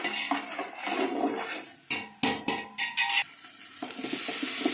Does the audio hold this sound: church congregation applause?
no